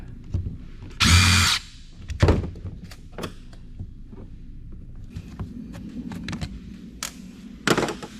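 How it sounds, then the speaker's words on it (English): A power screwdriver works screws loose on an AC adapter case, giving a short whirring burst followed by clicks, knocks and handling thuds, close and fairly quiet, with no talking. "we'll see if the screwdriver will do it now"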